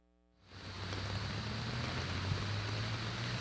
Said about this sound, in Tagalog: biglang bumuhos ang malakas na ulan dito nga sa UP Diliman